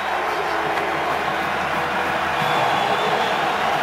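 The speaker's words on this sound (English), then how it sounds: "This crowd is fired up." A fired-up home crowd roars at a college football game between Baylor and West Virginia, a dense, loud, sustained wash of cheering with no clear breaks.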